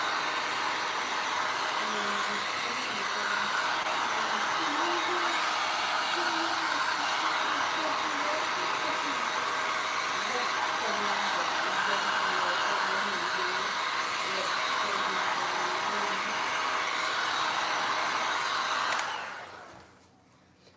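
A heat gun blows steadily and loudly while drying paint, a constant close roaring hiss that runs unbroken for nearly twenty seconds before cutting off abruptly.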